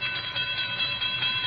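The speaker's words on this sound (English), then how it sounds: "I stopped the car at a sleepy little junction just across the border into Oklahoma to let a train pass by." In a radio drama effect, a train rolls past a sleepy railroad junction near the Oklahoma border, heard as a steady, muffled mechanical rumble with faint rhythmic clatter, loud and unbroken throughout.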